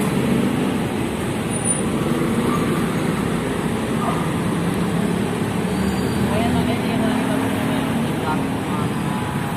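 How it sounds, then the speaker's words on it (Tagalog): Steady, dense roar of road traffic moving through the Lagusnilad Underpass, a continuous broadband wash of passing vehicles that stays loud throughout without pause. "yung traffic naman po dito is uh, okay naman po, like and moderate ah, po ang traffic dito"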